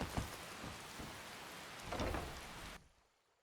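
Steady rain pours in the video game Skyrim, a dense hiss with a few heavier patters, then cuts off abruptly near the end.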